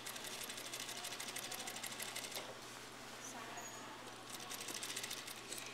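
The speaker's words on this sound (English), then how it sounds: "the stay stitch, attaching the skirt to the waistband" A sewing machine stitches a skirt to its waistband below the stay stitch, a steady fast rattling whir running close and fairly quiet, with a short slowdown midway before resuming.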